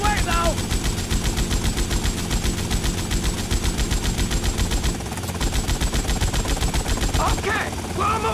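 Rapid machine-gun fire rattles from a helicopter in GTA Vice City, a steady loud stream of shots over the low thud of rotor blades, with a short pause near the end before the burst resumes.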